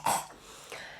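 A woman choking on smoke during a Reiki session with Tibetan bowls gives two close, rough coughs about half a second apart, the first louder, with faint background noise between them.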